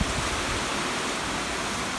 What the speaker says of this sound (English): it's only rain now